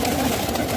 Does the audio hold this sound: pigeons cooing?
yes